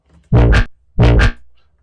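Two loud, heavily processed synth bass hits with OTT, saturation and grain delay, each a short gritty burst with an auto-filter sweep, separated by a brief gap.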